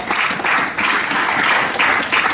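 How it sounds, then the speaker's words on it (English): Congregation clapping hands together at a church deliverance service, a steady dense patter of many hands with pulsing bursts throughout, fairly loud and close, no talk over it. "Clap your hand for Jesus."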